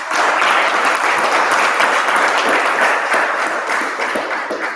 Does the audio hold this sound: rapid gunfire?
no